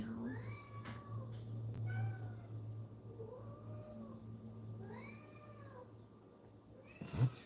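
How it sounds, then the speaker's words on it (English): Several cats meow repeatedly in rising and falling cries, some overlapping, while a person talks softly under a low background hum. "Their little meows are so cute."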